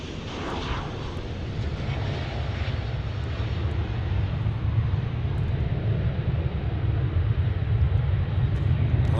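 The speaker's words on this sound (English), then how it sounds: "Alaska departing back to the West Coast there in a 737, Alaska Airlines." A Boeing 737 jet airliner departs DFW airport, its engines giving a steady, broad roar that stays loud and even throughout, with no voices over it.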